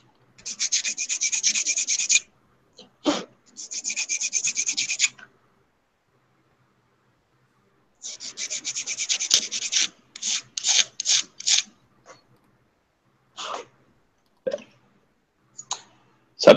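A wooden piece is sanded by hand at close range, making bright, raspy back-and-forth strokes in rhythmic bursts broken by silent pauses, ending in short scattered scrapes, with no talking.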